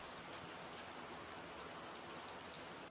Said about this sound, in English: Obviously I have some rain also.